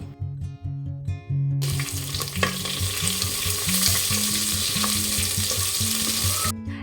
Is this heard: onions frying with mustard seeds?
yes